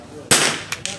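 A sharp, close rifle shot from a Ruger 10/22 takedown semi-auto rifle at an outdoor range, followed by two faint echoing impacts or reports.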